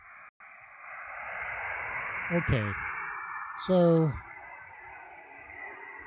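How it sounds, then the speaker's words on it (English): A steady broadband radio hiss of white noise on a satellite frequency in an amateur ham radio setup, constant and moderately loud, with someone briefly speaking over it partway through. "you hear that hiss in the background. That's the white noise coming from the satellite or from the frequency that the satellite will be on"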